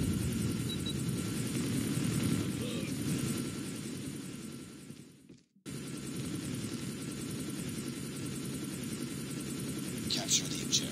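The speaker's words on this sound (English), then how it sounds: "Stealth chopper inbound." Steady, loud helicopter rotor and engine drone from a stealth chopper in Call of Duty Mobile hardpoint multiplayer, continuous apart from a brief dropout midway, with faint game effects layered on top.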